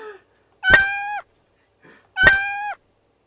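A human voice imitates a cat, giving two drawn-out, clear meows separated by a short pause, loud and close with nothing else around them.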